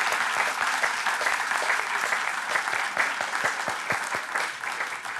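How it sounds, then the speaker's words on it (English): Attendees at a Kyle city council meeting give a steady round of applause, with individual claps audible through the dense, moderately loud clapping. "Big round of applause."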